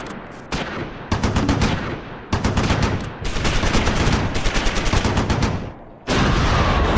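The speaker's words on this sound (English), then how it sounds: "Nice, nice shots by our men." Bursts of rifle and machine-gun fire from friendly troops fighting in a Battle of the Bulge winter attack in the Close Combat IV video game, loud and dense, coming in repeated volleys with brief gaps between them.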